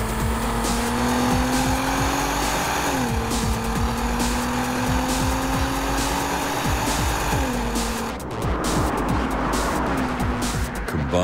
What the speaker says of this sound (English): Pull the select lever back to S and the gearbox will hold off upshifting until much further in the rev range